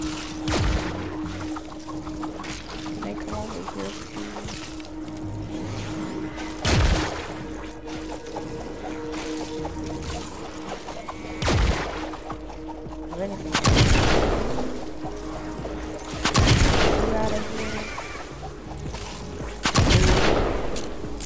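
Repeated bursts of gunfire in a Fortnite Save the World match, loud volleys breaking out every few seconds over a steady game soundscape, with a player talking throughout.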